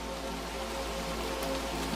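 Steady rain falling in a continuous, even wash of patter, close and moderately loud, with no voices.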